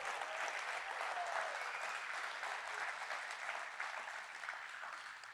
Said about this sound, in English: Clap your hands like it's a possibility